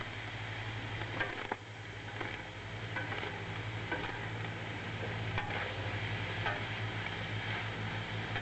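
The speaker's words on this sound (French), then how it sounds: "je mets directement mon huile d'olive" Olive oil meets a hot pan and sets off a continuous soft sizzle with faint scattered crackles, close by and fairly quiet under a low steady hum, with no voices.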